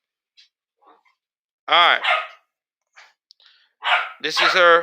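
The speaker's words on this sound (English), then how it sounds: "Y'all sorry for the dog barking." A dog barks indoors in a Houston apartment, two separate bursts of loud, close barking with short yips between them, while a person speaks briefly and quietly near the start.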